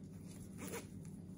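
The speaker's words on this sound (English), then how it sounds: "It has the double zipper." A double zipper on a small cosmetic bag is drawn in one quick, close rasping stroke that peaks briefly near the middle and is heard on its own.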